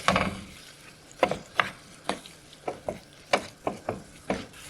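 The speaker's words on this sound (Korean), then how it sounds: "그리고 이거 한 5분 정도 섞어주겠습니다" Paella rice with crushed saffron is stirred in a pan, a close, faint series of about ten separate scraping strokes against a soft background sizzle.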